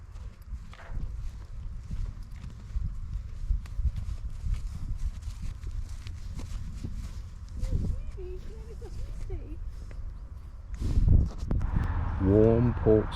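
Horse hooves clip-clop along a canal towpath on a summer afternoon, a soft steady walking rhythm that is fairly faint under wind and nearby people talking.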